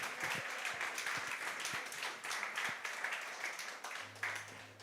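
A church congregation applauds at a Sunday service, a soft, continuous patter of many hands heard at a distance and fairly faint, with a few sharper thumps and a low hum near the end.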